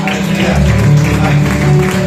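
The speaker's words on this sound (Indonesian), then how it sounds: "Berikan tepuk tangan." Congregation applauding during a church service in Wonoploso, Gondang, Mojokerto, with loud, sustained clapping throughout that is mixed with voices and a musical tone.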